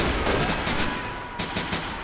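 Continuous volleys of gunfire from a World War II battle in Men of War: Assault Squad, an invasion of the Japanese mainland, with rapid bursts and sharp cracks layered loudly throughout and no talking.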